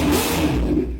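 A Ducati 400cc twin-cylinder sport motorcycle with about 2,400 km of use and in very good condition revs loudly and close by, in a brief deep engine burst that fades toward the end.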